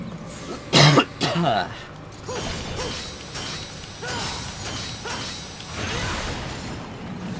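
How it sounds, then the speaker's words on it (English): A person coughs a couple of times in quick succession, loud and close, over the background sounds of a Devil May Cry 4 game session, with talking following afterward. "Excuse me, I got a cough."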